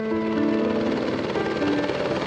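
An agricultural helicopter flies low and slow over vineyards while spraying chemicals, a loud steady rotor thrum and engine drone heard briefly and alone.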